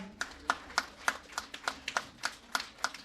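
Applause at a felicitation event in Aurangabad comes as a faint, evenly spaced series of about eleven sharp claps in a steady rhythm, with no talking over it.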